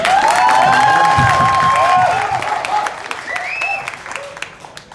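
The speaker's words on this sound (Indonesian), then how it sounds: "Tepuk tangan lagi yang meriah." Loud, enthusiastic audience applause at a Wonosobo performing-arts showcase, with full clapping mixed with whoops, cheers and shrill shouts that peak early, then taper to scattered claps.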